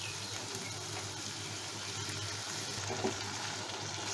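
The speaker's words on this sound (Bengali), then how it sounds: "এইভাবে অল্প আঁচে মশলাটা হালকা করে কষিয়ে নেবেন।" Masala with whisked sour yogurt cooks slowly over low heat in a pan, giving a soft, even, continuous sizzle with faint stirring and a low background hum, no talking.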